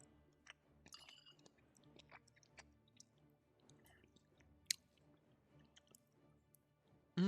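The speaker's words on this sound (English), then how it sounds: "Hearing me chew is high quality ASMR content." Someone chews a bite of leftover breakfast close to the mic, soft wet squishy mouth sounds with intermittent clicks and small smacks over a quiet background, ending in a sudden loud burst.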